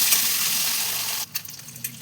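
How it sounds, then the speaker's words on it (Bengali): Boiled, peeled eggs frying lightly in oil in a pot: a dense, steady hiss of sizzling close up, dropping away partway through to softer, intermittent crackles and pops. "এবার ডিমগুলো আমি হালকা ভেজে তুলে নেব।"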